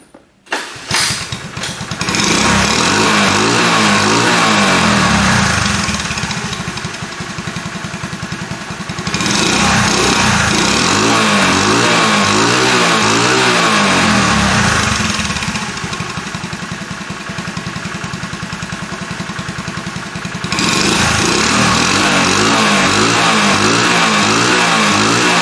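A 1985 Honda ATC 110 three-wheeler starts with a brief cranking burst, then its small engine idles close and loud, rising twice into sustained revving swells before settling back to a steady putter.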